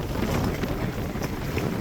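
Strong storm wind roars steadily against the microphone, a dense unbroken rush of buffeting gusts with no voices.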